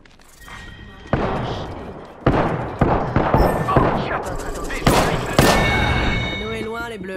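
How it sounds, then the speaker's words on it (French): Gunshots and impacts in the Apex Legends battle game, several sharp loud bursts spaced irregularly, with in-game voice lines heard between them. "Je suis sous les tirs"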